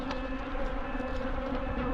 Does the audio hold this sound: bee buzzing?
yes